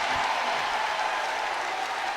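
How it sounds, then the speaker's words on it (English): At a basketball game in The Basketball Tournament, a packed arena crowd applauds and cheers in a dense, continuous roar of clapping and voices, loud and unbroken throughout. "Listen to this crowd."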